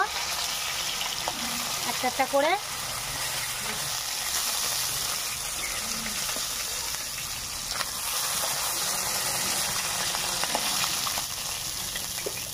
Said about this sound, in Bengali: মাছ ভাজা আমার কমপ্লিট, লাল লাল করে ভেজে নিয়েছি। এবার তুলে নেব